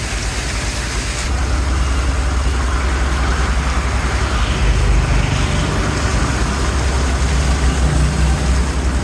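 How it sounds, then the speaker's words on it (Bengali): A cargo trawler's engine drones low and steady beneath a raised sluice gate, a close, throbbing heavy-motor rumble that grows slightly louder after the first second and holds without speech. "এবার এর নিচে দিয়ে ট্রলারটি যাবে"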